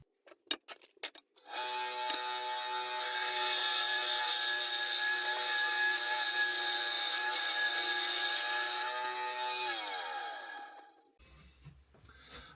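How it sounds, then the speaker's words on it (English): A bandsaw starts up and cuts through wooden pieces, a loud steady whine with a long continuous cut that winds down near the end, preceded by a few clicks and knocks. "you're going to meet me now at the bandsaw where I'm going to cut these through"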